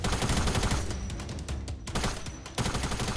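Gunfire in a Fortnite Season 4 match, loud dense shots in quick succession with brief gaps, heavy and close throughout.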